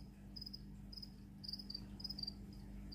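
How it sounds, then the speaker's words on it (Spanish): Crickets kept in a terrarium chirp faintly in short, high repeated trills over a steady low hum, with no talking. "ya sabéis que aquí tengo los grillitos"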